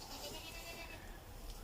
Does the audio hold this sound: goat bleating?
yes